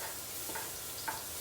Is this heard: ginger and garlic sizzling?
yes